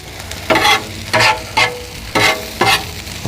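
Potatoes frying on a Blackstone griddle for a country breakfast, with steady sizzle broken by five loud scraping stirs of a spatula at regular intervals; no talking.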